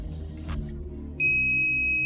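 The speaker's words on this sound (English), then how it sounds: "beep to confirm" A loud, steady electronic beep from an ET 500 gate motor starts partway through and holds, following some quiet mechanical clatter and background hum.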